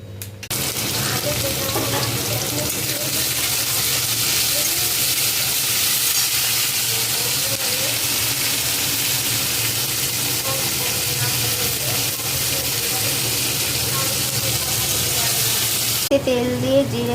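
Potatoes frying in hot oil with cumin seeds, dried red chilli, bay leaf and cumin powder for a vegetarian banana blossom and coconut dish, a loud steady sizzle lasting throughout with stirring, ending in a sharp clatter.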